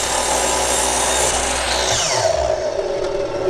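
A saw set at a 45-degree angle cuts through wood for corner supports, a close, loud, continuous whining rasp that drops in pitch near the end as the cut finishes and the blade winds down.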